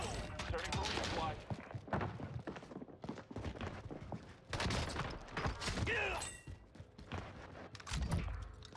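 Rapid bursts of automatic gunfire on Rebirth Island in Call of Duty, with repeated volleys and scattered single shots at varying distances, interspersed with footsteps and brief lulls.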